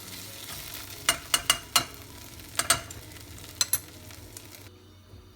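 Softened vegetables fry in a pan with a steady low sizzle, broken by several sharp scraping knocks as they are stirred, close and clear with no voices.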